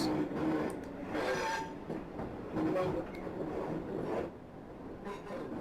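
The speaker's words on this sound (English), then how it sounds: "Still on a bit of a downhill gradient, so the train's sort of running away with us." Class 465 electric multiple unit coasting down a gradient in a train simulator game, giving a steady rumbling rail-and-motor drone with soft rhythmic clatter and swelling surges, moderately loud and continuous.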